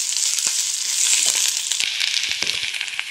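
Drumstick leaves (munagaku) frying in a pan for a traditional curry, a dense, close sizzle with scattered crackles and light stirring scrapes, steady throughout with no talking.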